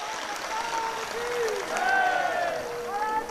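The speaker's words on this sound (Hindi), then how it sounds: "जोरदार ताली इनकी भक्ति सेवा के लिए बजाओ।" A large crowd at a Bageshwar Dham religious gathering claps loudly and steadily, a dense wash of applause running under voices throughout.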